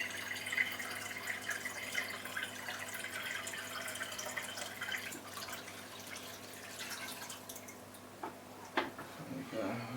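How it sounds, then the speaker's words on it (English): Reverse-osmosis water poured from a large 25 litre bottle into a saltwater reef tank: a continuous close trickle and splash with scattered drips over a steady aquarium hum, ending in a few louder drops. "So I'm going to pour some RO in instead."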